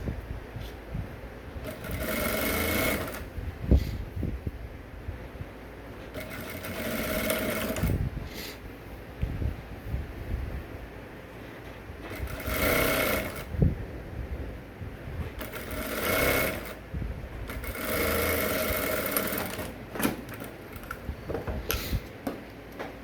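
A sewing machine stitches an Ankara top in loud bursts of a few seconds each, separated by brief pauses with handling noise between runs.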